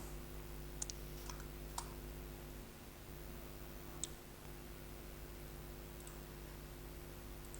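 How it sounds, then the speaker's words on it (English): Sparse computer mouse clicks, a few faint, separate ticks spaced over a steady low electrical hum in a quiet room. "Click on the open icon."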